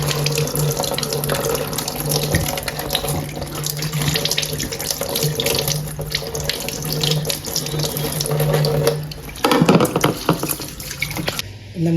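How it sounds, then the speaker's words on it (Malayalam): Tap water runs steadily into a sink while a crab is washed under it for a curry, a continuous close splashing with brief handling knocks and no talk. "ആദ്യമേ നല്ലപോലെ പൈപ്പിൽ കഴുകുക."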